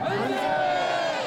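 A dense crowd of about a thousand people in a Wonju city street shouts together in a sustained roar, commemorating the 1919 Korean independence movement with cries of "Manse" while marching with Taegeukgi flags.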